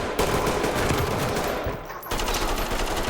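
Automatic gunfire in the tactical shooter Ready or Not: rapid sustained bursts of loud shots, briefly dipping then resuming, filling the whole moment.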